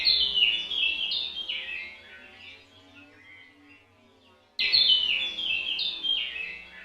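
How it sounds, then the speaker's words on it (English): Twittering, metallic bird-like synth chirps from an OTO Machines BIM effect in fast descending bursts, fading out, then returning abruptly at full strength. "Metal birds."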